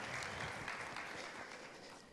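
An audience claps at an evening trade-fair talk to welcome a speaker, as a fairly faint, dense, even wash of applause with no voices.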